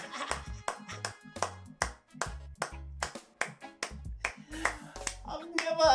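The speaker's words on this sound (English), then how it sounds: "I think even this clapping is just I'm just clapping for the universe, man." A single person claps their hands in a quick, uneven run of sharp, close slaps, each one loud and distinct, with short gaps of quiet between them.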